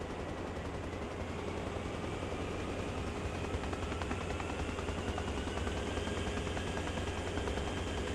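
Helicopter flying in Arma Reforger, a dense, steady rotor and turbine roar filling the whole clip at an even loudness, with no one talking.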